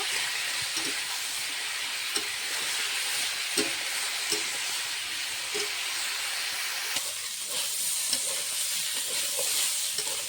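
Potatoes and banana stem frying with turmeric and salt in a pan, giving a continuous broad sizzling hiss with occasional light stirring knocks, close and even throughout, no talk.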